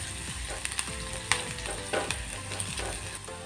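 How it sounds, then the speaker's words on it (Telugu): Chopped ginger and garlic sizzle in melted butter in a pan, a steady close frying crackle with a few sharp stirring clacks and pops, no voices. "బటర్ కరిగిన తర్వాత సన్నగా కట్ చేసిన అల్లం వెల్లుల్లి ముక్కలు వేసేసుకోవాలి."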